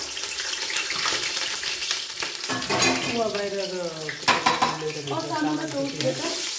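Onion fries in a pan with a steady, close sizzle and occasional stirring clatter, while people talk over it.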